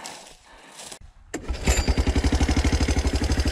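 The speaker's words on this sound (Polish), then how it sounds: "Fajne odpalanie, nie? Jak kosiarka do trawy." A small engine gets pull-started like a lawn mower. A sharp yank and clatter come first, then the motor catches and settles into a loud, steady chugging putter close by with no voices over it.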